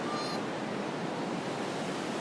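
The James River flows with a broad, steady rushing wash, continuous and moderately loud with no pauses, heard outdoors.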